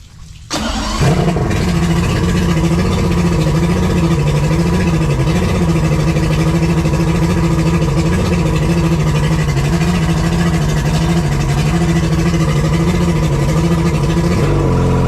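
Yamaha 250 HPDI outboard engine cranks and catches, then settles into a loud, steady running drone with a slightly wavering pitch, close by with no talk.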